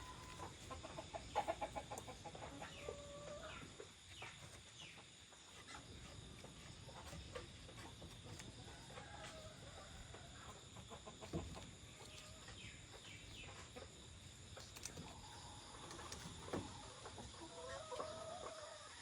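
Chickens clucking and murmuring softly nearby in a rural Philippine yard, scattered calls overlapping throughout against a quiet farmyard background, with no one talking.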